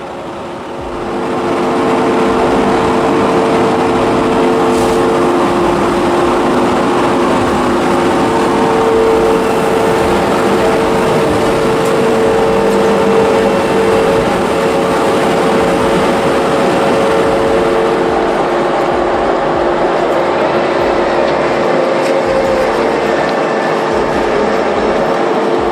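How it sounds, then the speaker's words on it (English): A 200 kilowatt industrial metal shredder runs continuously with its spinning steel jaws, a loud steady grinding roar with droning low hum and rumbling clatter, no voices. "this 200 kilowatt shredder wouldn't blink"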